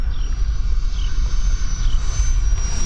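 A steady high-pitched jet whine from an E-flite Viper RC ducted fan model jet passes by in a low-level knife-edge pass, loud and continuous, with a faint rising whistle over a rumbling low end.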